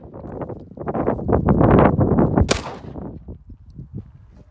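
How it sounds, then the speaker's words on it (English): Several gunshots fire close and loud at an outdoor shooting session, a rapid volley of sharp cracks with one especially loud report near the middle, then fading echoes. "You can shoot them all or shoot as many as you want."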